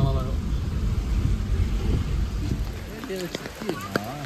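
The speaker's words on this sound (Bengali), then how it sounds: "তাই প্রচুর বৃষ্টি হচ্ছে এখানে" Heavy rain falls at Tiger Point, a steady close hiss that fills the whole clip, with faint voices and scattered tonal sounds rising over it in the last second or so.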